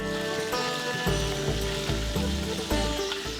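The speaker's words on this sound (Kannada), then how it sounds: "ಈರುಳ್ಳಿ ಚೆನ್ನಾಗಿ ಒಳ್ಳೆ ಬ್ರೌನ್ ಕಲರ್ಗೆ ಬರಬೇಕು ಆ ಥರ ಚೆನ್ನಾಗಿ ಫ್ರೈ ಮಾಡ್ಕೊಳ್ಳೋಣ" Chopped onions frying in hot oil with cumin in a pan for a vegetable biryani, a steady close sizzle with soft bursts and stirring scrapes throughout, no voices.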